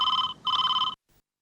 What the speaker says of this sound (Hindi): फोन उठाइए फोन।